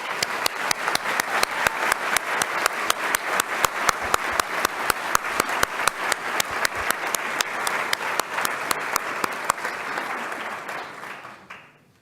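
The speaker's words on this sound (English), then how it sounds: "If we could please give her a round of applause." An annual meeting audience applauds for a student, with steady crowd clapping lasting about ten seconds and one loud near clapper keeping a regular beat before everything fades out.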